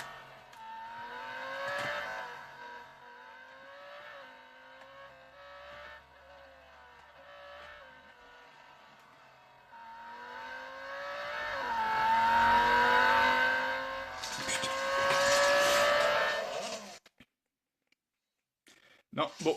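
Lamborghini Huracan R3 Spec engine in the racing game Real Racing 3, rising repeatedly through gears with rhythmic upshifts, building louder toward a sustained high-revving peak before cutting off abruptly.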